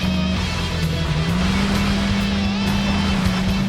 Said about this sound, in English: Sega Rally has separate noises for the engine sound and exhaust, though you'll hear the exhaust noise more